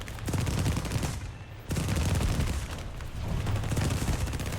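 Rapid bursts of 20mm cannon fire from a Spitfire Mk II in a flight combat game, loud sustained rattling volleys with a short pause between them.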